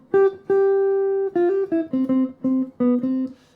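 Solo guitar plays a jazz scat-style swing phrase over a 2-5-1 chord progression, a short melodic line of about a dozen clear picked notes, some held and some quick, with no talking.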